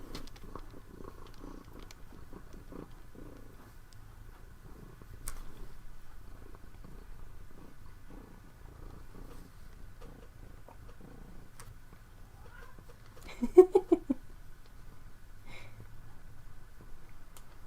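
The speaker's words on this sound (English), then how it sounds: "Purr." A cat with a caramel-orange coat purrs softly and steadily at close range, a low continuous rumble running under a quiet room for the whole stretch, with a brief louder rustle near the end.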